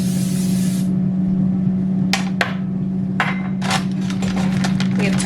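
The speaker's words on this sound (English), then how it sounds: "Spray the tray." Cooking spray hisses in a short burst onto an air fryer tray, followed by several light metallic clinks and knocks as the tray is handled.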